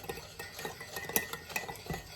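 Cajun cream sauce stirred in a pan, quiet scraping and wet swishing from a utensil in irregular strokes, with occasional light metallic clinks against the pan.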